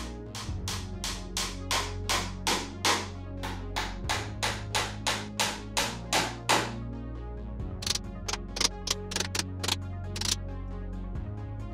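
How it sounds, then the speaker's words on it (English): Repeated sharp hammer strikes driving nails into a wooden door frame, a steady run of loud knocks with brief pauses between groups, close by. "I then hammer the nails home once everything's sitting nicely."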